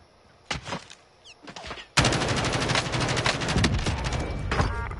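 Gunfire in the Warzone video game: a few scattered single shots, then a loud sustained automatic burst of rapid, evenly spaced shots close by, with no talk over it.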